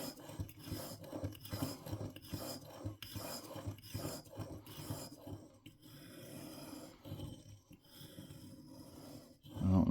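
A broadhead sharpened on a sharpening stone, close rhythmic rasping strokes in steady repeated passes that thin out and fade toward the end, fairly quiet, with no talking.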